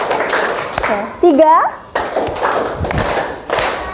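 A group of children claps in a counted ice-breaking game in a classroom, a few sharp hand claps landing between a woman's instructions and the children's voices.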